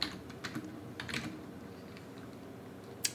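A command being typed on a computer keyboard, a short burst of quick light key clicks that trails off and ends with a final tap.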